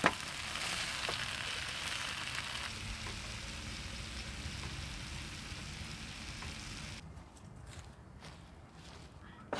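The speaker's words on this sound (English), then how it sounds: "There's so much in this frying pan." A steady broadband hiss of chops frying in a crowded pan, continuous through the clip with faint clinks and scrapes, easing slightly near the end.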